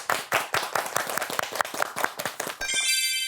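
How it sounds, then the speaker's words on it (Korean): A church event audience claps warmly to welcome a singer onstage, a dense burst of close applause that fades out as a bright ringing chime begins at the end. "우리 강훈바오로 형제님을 큰 박수로 모셔보겠습니다."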